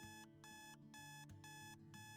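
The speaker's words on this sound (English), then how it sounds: "Your alarm goes off." A household alarm clock going off around 6 a.m., a fast repeating electronic beep pattern in short bursts with brief gaps, steady and clear throughout.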